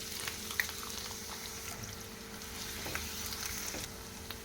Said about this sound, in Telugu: ఆయిల్ హీట్ అయిన తర్వాత ఆనియన్ వేసేసుకోవాలి